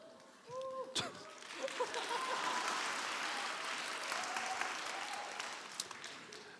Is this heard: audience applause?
yes